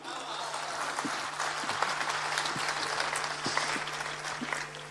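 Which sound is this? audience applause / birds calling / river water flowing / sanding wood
audience applause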